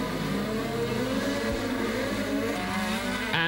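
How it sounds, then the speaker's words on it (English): A 1984 Ferrari Formula One car screams past on the broken-up street circuit of the Dallas Grand Prix, its high engine note loud and steady throughout, mixed with the wider race roar. "Alboretto's Ferrari."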